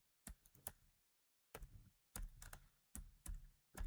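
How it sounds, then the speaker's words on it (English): Keys clacking on a computer keyboard, short rapid bursts of close, crisp typing separated by brief pauses, quiet overall with no voices. "if I start typing some stuff"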